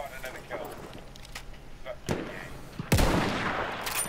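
Rifle fire in the World War I shooter Battlefield 1 while sniping: two sharp shots crack out late in the moment, the second louder, over low background game noise.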